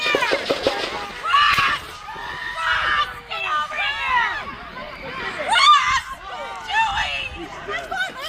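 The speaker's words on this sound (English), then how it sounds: "Even the woman's screams sounded like a pre-recorded soundbite." Repeated shrill screams from a woman rise over a busy crowd, with hurried movement, chatter and overlapping voices throughout; the cries recur every second or two, loud and close, blending with rushing noise and agitated shouting.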